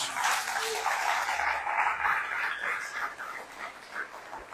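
A church congregation claps together in a sustained wash of applause, loud at first and easing slightly toward the end, with a few voices mixed in.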